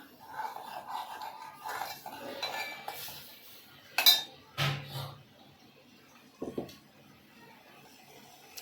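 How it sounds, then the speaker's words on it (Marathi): Peanuts and chillies dry-roasting in a pan, heard as a few scattered metallic clinks and scrapes of a spoon against the pan, with soft rattling between them and no voices. "फक्त शेंगदाणे आणि मिरची एवढंच घेतलं आहे हे जरा भाजून घ्यायचं आहे चांगलं"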